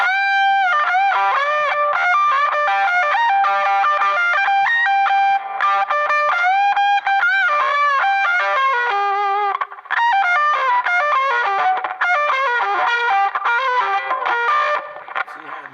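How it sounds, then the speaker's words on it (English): Electric Stratocaster guitar played through a short tape-delay echo with distortion and chorus, ringing chords and single notes repeating quickly behind each pluck, loud and continuous throughout. "That's a little short echo from a tape delay recreation."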